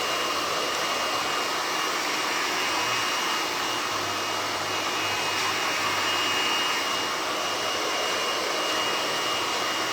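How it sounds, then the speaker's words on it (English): A hair dryer runs continuously at a steady, loud whir during a short pixie haircut, with no break or change in pitch. "Sorry about the blow dryer"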